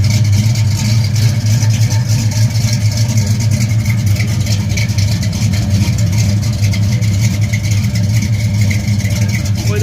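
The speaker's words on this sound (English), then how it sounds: "3-inch exhaust sounds really good." 1968 Buick GS 400 engine idling through a 3-inch exhaust, a loud, close, steady low rumble with a continuous throbbing burble and no pauses.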